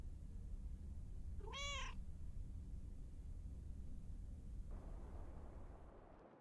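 A cat in the video game Lake gives a single short rising-falling meow over a steady low background hum, fairly faint and brief, with no voices.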